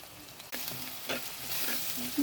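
Onion with salt and turmeric sizzles steadily in a pan, a soft continuous fry broken by a few stirring scrapes, close and moderately quiet with no talking.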